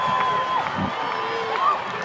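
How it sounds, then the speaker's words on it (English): Spectators roar at a women's football grand final after a goal, a broad, sustained wash of distant crowd cheering with a few whistles rising above it. "that's brought the crowd alive"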